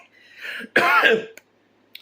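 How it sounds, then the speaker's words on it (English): A short throat clearing followed by a harsh cough, close and loud, then a couple of faint clicks and silence. "I was trying to talk and not cough"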